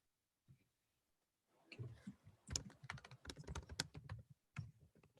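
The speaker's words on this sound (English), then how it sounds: "Can you hear me typing?" Keys clatter on a computer keyboard in a quiet office setting, a brief tap first and then a steady run of close, crisp clicks and clacks.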